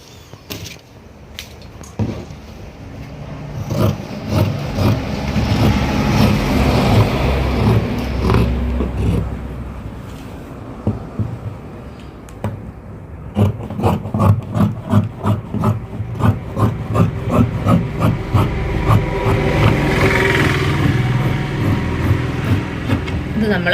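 Scissors cut through frock fabric in long, repeated rasping snips, close and steady, with brief pauses between runs of cutting.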